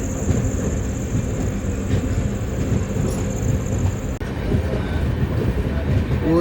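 A passenger train pulls out of Katpadi Junction in the dark with a loud, continuous low rumble of wheels on rails, while a thin high whine runs for the first two-thirds and then stops.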